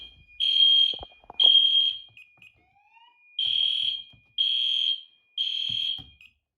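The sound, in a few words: fire alarm sounding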